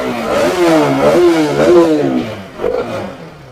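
A 2016 ABS-model motorcycle engine revs in a bike showroom, loud and close, its pitch rising and falling over several seconds before easing off.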